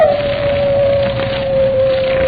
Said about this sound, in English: that howl, it's Moran's dog.